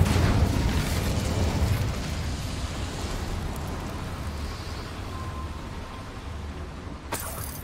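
An Incendio fire spell cast in Hogwarts Legacy: a loud fiery burst at the start that fades to a long roaring wash, followed by a brief sharp crack near the end.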